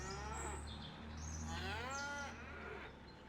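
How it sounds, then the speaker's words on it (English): Cows on a dairy farm moo in drawn-out calls, one after another, over a low steady hum, with faint birdsong in the background. "Cows are having a great time laughing at me."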